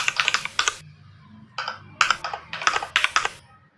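Typing on a computer keyboard while writing Python code: quick bursts of close, crisp key clicks separated by short pauses, with no talking.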